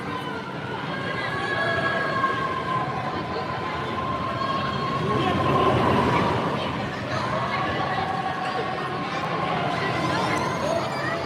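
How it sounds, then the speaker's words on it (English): A small theme park ride train at Warner Bros World Abu Dhabi rolls in with a steady, broad mechanical rumble and faint tonal whine that swell slightly midway, with voices in the background. "It's quite a short ride with a small train as well"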